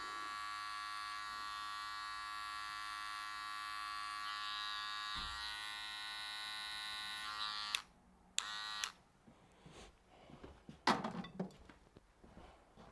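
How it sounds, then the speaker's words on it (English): Electric hair clippers buzz steadily for about eight seconds while a fade is cut with comb and clipper in a two-block haircut, then stop, leaving brief clicks and handling noises. "I'm just using the comb and the clipper together to just create this little fade"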